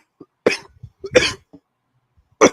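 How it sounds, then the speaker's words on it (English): A person coughs in three loud, harsh bursts spaced about a second apart, close up during a podcast recording, with brief quiet gaps between them. "That sounds atrocious to cough like that."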